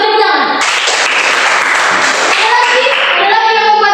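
A school class of pupils clapping their hands together in a classroom lesson, a short loud burst of clapping with children's voices and a teacher talking over and around it.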